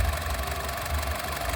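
A 2011 Honda City i-VTEC LPG automatic sedan in good condition idles with a low, even engine hum, brief and fairly quiet.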